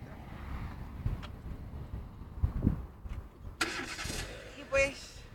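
A car engine starts up with a sudden loud burst of cranking and catching, after quieter background noise and soft rustling.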